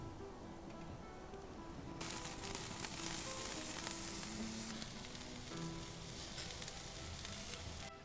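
Sausages sizzling over a wood fire: a steady, faint crackling hiss that swells into denser, brighter sizzling partway through and runs on with no talk.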